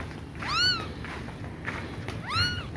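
A cat gives two clear meows about two seconds apart, moderately close, over quiet background hiss.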